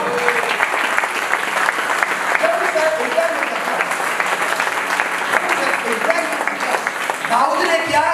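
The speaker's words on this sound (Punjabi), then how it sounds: "ਉਹਨਾਂ ਦਾ ਵੀ ਸਵਾਗਤ ਕਰੋ ਜ਼ੋਰਦਾਰ ਤਾਲੀਆਂ" Loud, sustained applause from a church crowd at a Christian wedding in Italy, welcoming the bishop, with dense clapping running steadily throughout and a few voices under it.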